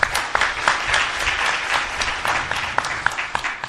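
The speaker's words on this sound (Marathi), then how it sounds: "खरं तर आता हे टाळ्या वाजवल्या हे माझं कौतुक आहे" An audience at a spiritual discourse interview claps, a dense run of close hand claps with a few sharper individual slaps standing out, steady and fairly loud throughout.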